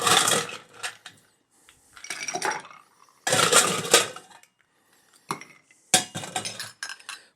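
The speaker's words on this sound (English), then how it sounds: "So let's put some ice in there and give this a shake to chill it down." Ice rattled in a cocktail shaker while mixing a pineapple margarita-style drink, sharp clinking and clattering bursts coming in uneven clusters with short quiet gaps between, close and fairly loud.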